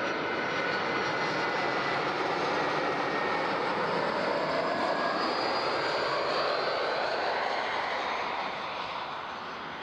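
A jet airliner landing on runway 14 at Zurich airport, its engine roar loud and continuous with a broad rushing whine that slowly fades toward the end.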